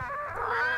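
A guard parrot in Return to Monkey Island lets out a harsh, sustained squawk, a single nasal screech that holds loud and close for under a second.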